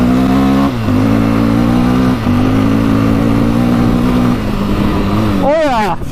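A 700cc quad engine revs hard and accelerates, its steady loud drone climbing in pitch through gear changes before a final rising rev, with a voice speaking briefly near the end.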